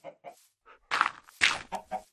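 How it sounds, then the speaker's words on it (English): Chickens in Minecraft cluck in short, separate bursts, a few soft calls followed by louder, closer squawks spaced unevenly over about two seconds. "Yeah, I know the chickens are getting out."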